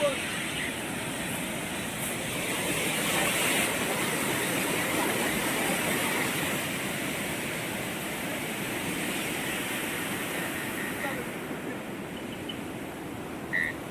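Floodwater from a river swollen by a cloudburst rushes in a continuous, loud, broadband roar at night, steady throughout with no break.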